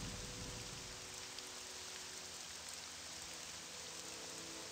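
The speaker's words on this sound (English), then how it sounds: "Probably help if it wasn't freaking raining." Steady rainfall in the video game The Elder Scrolls III: Morrowind, a continuous even hiss of rain on surfaces with no breaks, alone and fairly soft.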